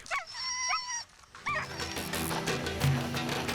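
Sled dogs on an Arctic expedition across Ellesmere Island yip and whimper in short, high, repeated cries, close by and fairly faint, followed by a busier jumble of dog noises.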